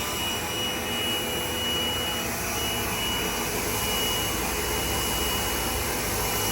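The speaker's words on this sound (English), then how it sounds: "hit it again, it'll suction the back side of the dryer" The suction fan of a DTF printing dryer runs with a steady, loud whooshing hum and a faint high whine, unchanging throughout.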